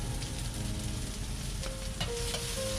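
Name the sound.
scallion, ginger and garlic sizzling in rapeseed oil in a wok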